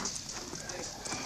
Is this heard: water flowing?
no